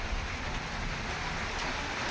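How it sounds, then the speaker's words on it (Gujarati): Steady rain pours down on a village, a dense, even hiss of falling water with low rumbling underneath, continuous and fairly close throughout with no voices. "ચાલુ વરસાદ ગાજવીજ સાથે મીંડો વરસવા પાછો માંડ"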